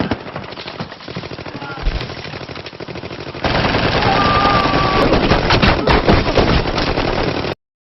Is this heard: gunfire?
yes